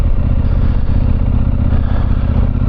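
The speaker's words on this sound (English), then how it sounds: "riding his Harley Street Glide" A Harley-Davidson Street Glide motorcycle rumbles loudly and close, its V-twin engine giving a dense, steady low throb with pulsing firing beats as it rides along, no talk over it.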